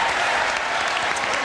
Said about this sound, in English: Let's greet our two players over here with a brisk round of applause.